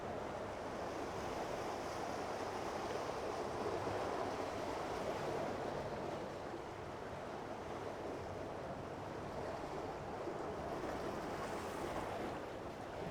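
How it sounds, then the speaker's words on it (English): Ocean waves wash steadily past a Lagoon 51 sailing catamaran at sea, a continuous broad surf rush mixed with wind buffeting the microphone, no voices. "Such a nice waves."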